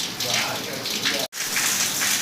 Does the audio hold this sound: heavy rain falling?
yes